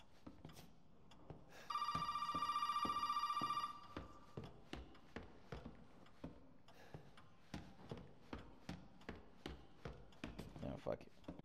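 A telephone rings in the video game Resident Evil 7, one steady electronic ring lasting about two seconds amid faint ticking and footstep-like taps.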